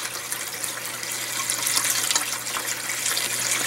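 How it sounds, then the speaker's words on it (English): Water gushes and trickles through the grow-bed media of an aquaponics system toward the bell siphon standpipe, a continuous splashing flow that builds slightly, heard alone. "The water goes through the grow media and fills to the top of the standpipe there."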